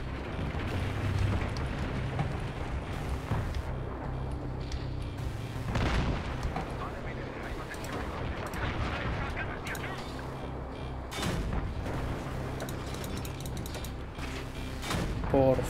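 Gunfire and explosions in the Battlefield 3 campaign on PC: dense rumbling combat with sharp bursts and booms scattered throughout, moderately loud, with a player speaking at times.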